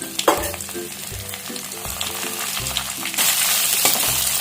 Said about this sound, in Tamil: இப்போ நம்ம இதில் மிளகாய் போட்டுக்குவோம்.